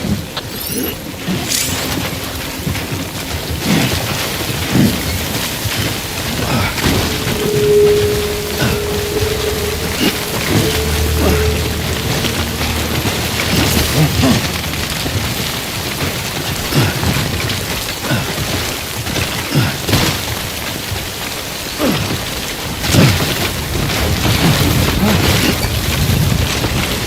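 Timefall rain pours steadily in the video game Death Stranding, a dense constant hiss with scattered low booms of thunder rolling beneath it throughout.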